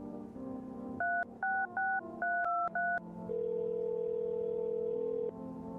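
In the video game No, I'm not a Human, a phone number is keyed in as eight quick touch-tone beeps in an uneven rhythm, followed by a long steady tone, all faint over a soft background hum.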